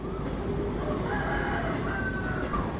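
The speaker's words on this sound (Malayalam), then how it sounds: "ഇതിൻ്റെ ബാക്കിൽ നിന്ന് ഒരു കോഴിയുടെ ശബ്ദം കേട്ടു" A chicken calls from a coop at the back of an old parked vehicle in a village within Kuala Lumpur, with drawn-out crowing and clucking over a constant loud background hiss.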